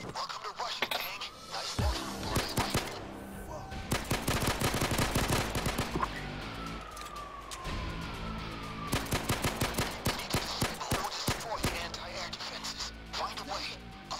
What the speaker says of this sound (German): dann verballere ich jetzt direkt erstmal das erste Magazin